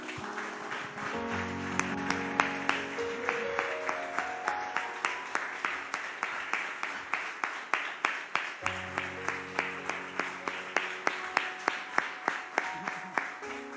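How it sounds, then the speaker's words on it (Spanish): Steady rhythmic clapping from a church congregation, moderately loud, continuing evenly throughout with a faint background of voices or music. "Le damos un aplauso al Señor, hermanos"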